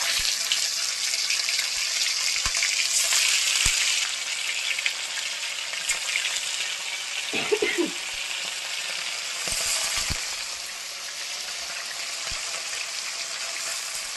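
Fish frying in hot oil give a steady broad sizzle for the whole stretch, with a few sharp clicks and light clatters of utensils scattered over it and no talk.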